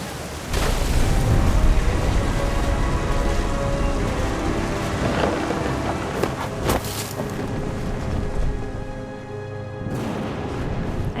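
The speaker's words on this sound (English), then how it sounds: "The thunder sounded much too close and full of angry power." A thunderstorm with rain plays in the game What Remains of Edith Finch: steady, loud, heavy rainfall with deep rumbling thunder swells rolling through it, and no voices.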